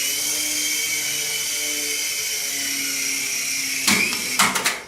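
A small XVB beginner RC helicopter spins up for takeoff, its rotor and motor making a steady high whine. A few sharp knocks and clatters come near the end.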